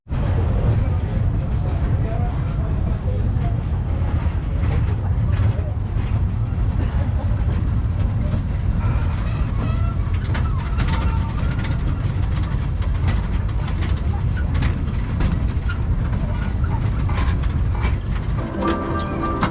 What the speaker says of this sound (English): This 2-mile, 22-minute train ride will take you through a working plantation